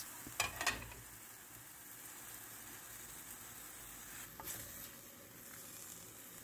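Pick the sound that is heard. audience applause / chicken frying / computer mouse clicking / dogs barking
chicken frying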